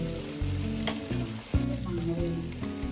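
Food stirred and fried in a pan until golden brown, for Kerala-style ghee rice and chicken curry, gives a steady close sizzle with occasional scraping stir sounds, no talking.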